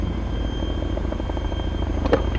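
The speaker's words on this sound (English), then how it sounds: "I'm still trying to get used to the Chinook again" A Chinook helicopter flying in the video game ArmA 3, its rotors beating in a steady, fast, loud rhythm throughout, with a brief sharp click near the end.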